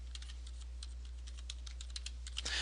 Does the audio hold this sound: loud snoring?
no